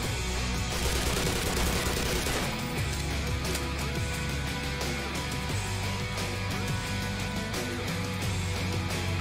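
Sustained gunfire from the Black Mesa video game fills the scene. Dense rapid shots and bursts run continuously and loudly over a low game soundtrack.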